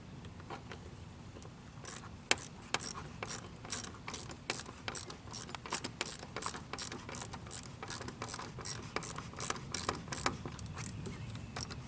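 A ratchet tightens a small screw while an ECM is installed during an engine rebuild: a long run of quick, even clicks, close and clear, speeding up slightly toward the end, with no talking.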